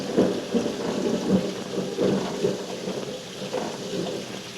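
Thunder rumbles low and rolling through a night storm amid steady rain, the deep booms swelling and fading in several waves with no voices.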